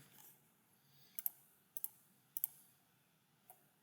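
A computer mouse button clicks several times, sharp faint clicks in small pairs spaced about half a second apart, then a single last click, in a quiet room.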